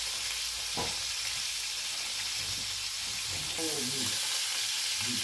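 Salted mackerel frying in oil, giving a steady, dense sizzle and crackle throughout, with occasional stirring sounds and a brief knock.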